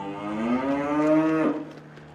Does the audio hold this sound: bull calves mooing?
yes